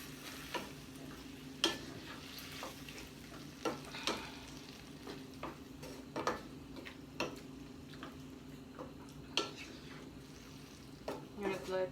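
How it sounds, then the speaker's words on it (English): Tomatoes fry in a pan with spices while being stirred, giving a steady low sizzle broken by repeated sharp scraping taps of the utensil at an irregular rhythm, close and moderately quiet. "So I'm going to add the tomatoes right now. So I want to cook those a little bit"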